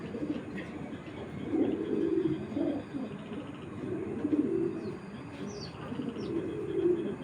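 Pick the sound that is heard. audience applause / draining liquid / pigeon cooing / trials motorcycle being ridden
pigeon cooing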